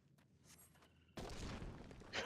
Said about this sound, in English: Wow, what a great explosion.